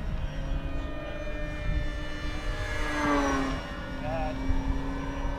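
A HobbyZone Arrows RC Tecnam 2010 model airplane flies past at full throttle, its thin electric motor whine rising and sweeping through the passby amid outdoor wind noise, with a person talking faintly.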